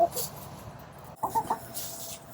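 A molting hen clucks while scratching about in straw in a winter coop, with a few soft, brief clucks close by in a quiet setting.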